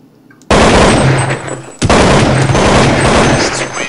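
Loud, sustained automatic gunfire in the video game Counter-Strike 1.6, a dense burst that starts abruptly, briefly breaks, then resumes and continues to the end.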